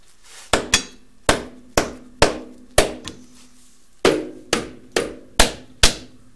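A hammer striking a flywheel in sharp, ringing metallic blows, about a dozen hits in uneven pairs and singles with a short pause midway, close and loud.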